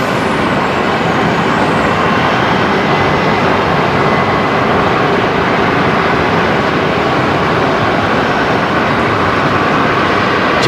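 A Jetstar Airbus A321neo takes off at Brisbane Airport, its jet engines producing a loud, steady roar that holds unbroken and fills the air throughout.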